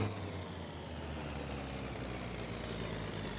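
A heavy truck in the driving game My Summer Car reverses after sliding into a ditch, its diesel engine droning steadily and close with a continuous low rumble, no talk over it.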